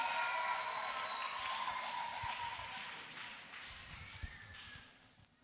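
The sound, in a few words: applause for Teacher Vene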